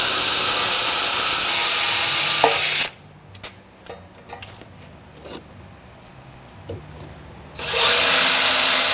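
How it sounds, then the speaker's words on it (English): A power drill bores through 1/4 inch steel plate with lubricant, loud and steady, stopping for several seconds of quiet with faint clicks before the drilling starts up again near the end. "Since we're drilling through 1/4 inch steel plate, I decided to go with a smaller drill bit"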